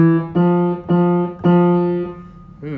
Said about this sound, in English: Ooh, that's kind of a creepy Mary Had a Little Lamb.